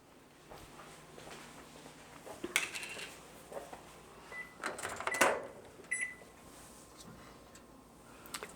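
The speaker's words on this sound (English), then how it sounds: "I'm going to warm it in the microwave." A microwave oven warms chocolate frosting in a home kitchen, a faint steady hum under scattered clicks, clatter and a few brief beeps.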